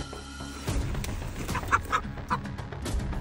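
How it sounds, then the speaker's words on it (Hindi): Chickens cluck loudly and excitedly in a farmyard, a steady stream of overlapping squawks and clucks with a few sharper, louder calls in the middle, close by and with no talk. "इन मुर्गियों ने इतना शोर क्यों मचा रखा है?"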